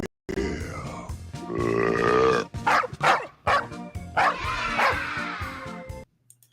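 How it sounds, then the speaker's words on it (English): Two or more excited dogs bark, grunt and whine almost without pause, close and loud, eager for a car ride, with the noise ending abruptly near the end. "Those dogs want to go for a ride in the car"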